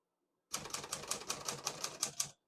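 Crisp, rapid clacks of a 1953 Olivetti Lettera 22 manual portable typewriter, about ten keystrokes in an even rhythm, close and alone, with no keys skipping or sticking.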